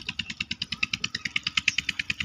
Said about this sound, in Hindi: मोटरसाइकिल